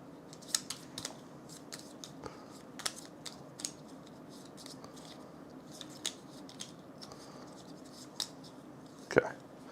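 Playing cards being shuffled on a table, a scattered run of soft snapping clicks with one sharper burst near the end, close and fairly quiet.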